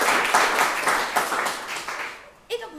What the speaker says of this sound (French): On peut applaudir Sylvie.